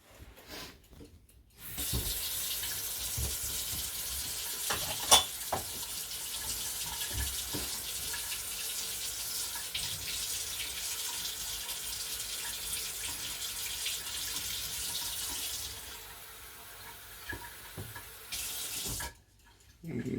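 Cold water runs from a kitchen tap in a steady, close hiss for about fifteen seconds, then thins out briefly before stopping.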